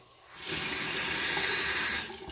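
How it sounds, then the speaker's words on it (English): A kitchen faucet is turned on, fitted with a siphon adapter for cleaning an aquarium sump, and water gushes into the sink in a bright, steady rushing hiss that starts abruptly, holds for nearly two seconds, then fades. "whenever you turn your faucet on"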